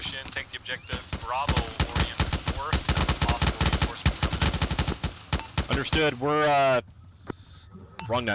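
Machine-gun supporting fire in a military video game pours out in dense rapid bursts under overlapping radio talk, followed by a brief rising electronic tone.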